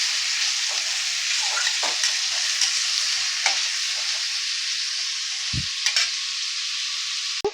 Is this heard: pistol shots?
no